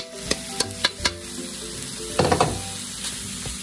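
Half a kilo of ground pork sizzles and fries in a pan with sautéed onion, a steady close hiss broken by a few sharp stirring clacks and a louder burst of sizzling as the meat is moved.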